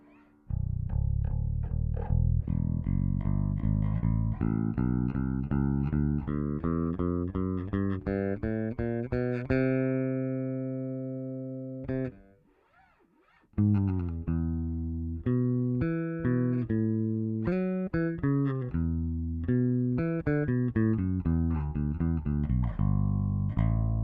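A clean, dry electric bass played through the direct output of a Bergantino forté amp plays a continuous melodic line with sustained low notes, pausing briefly midway before carrying on, close and steady.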